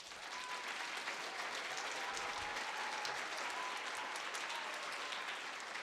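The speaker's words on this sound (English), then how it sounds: "Give a nice round of applause to Mrs." Audience applause at a primary school second-grade musical, a steady wash of many hands clapping that holds evenly throughout, heard from a distance and fairly quiet.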